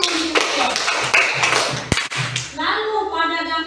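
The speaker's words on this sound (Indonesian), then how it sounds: "Tepuk tangan dulu" Children in a classroom clap together briefly, a burst of dense claps mixed with voices before a teacher's talk resumes.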